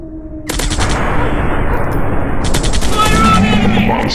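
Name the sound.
gunfire in Commando Strike mobile video game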